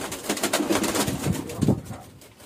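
Adult pigeons in a loft give close, rolling coos over a busy shuffling background, with one louder coo standing out near the end.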